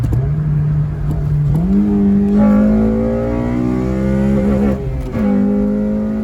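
An 8th generation Honda Civic, worn and hard-driven, accelerates with a loud, steady engine drone whose pitch climbs, drops sharply at each gear shift, then climbs again, heard close from inside the car with no talking.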